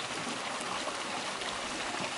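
Water from a fountain in a small garden pond sprays in a steady, close hiss and patter that holds without a break, with no voices heard.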